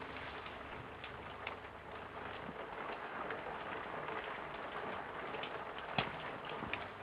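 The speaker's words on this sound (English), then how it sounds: "It's only the rain." Soft, steady rain patters with scattered drips and taps, faint and even throughout, with no voices.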